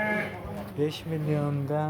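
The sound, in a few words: sheep bleating at a sheep market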